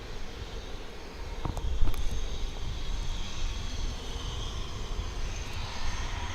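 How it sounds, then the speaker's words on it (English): A Martin Air Cessna 208B Super Cargo Master landing at DFW International Airport, its engine a steady low rumble over broadband airport noise that swells slightly midway and holds at a moderate distance. "It's another Martin Air Cessna 208B Super Cargo Master."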